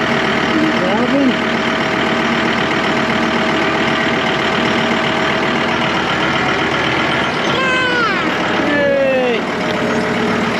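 A tractor engine idles with a steady, loud, close mechanical rumble that runs throughout, while a man and a toddler make brief vocal sounds over it near the end.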